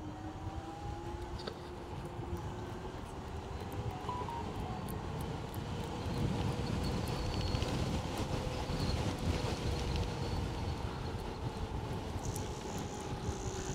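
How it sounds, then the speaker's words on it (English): Steady wind buffeting the microphone throughout a ride on a Motor Goat V3 e-bike with a 60V 25Ah battery, a continuous rough low roar that swells slightly in the middle, with a faint motor whine underneath. "And it is windy,"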